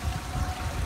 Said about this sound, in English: The water features are really cool.